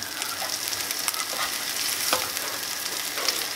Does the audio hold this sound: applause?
no